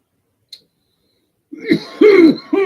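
A man coughs and clears his throat close to the microphone, a few rough, raspy bursts in quick succession after a quiet stretch.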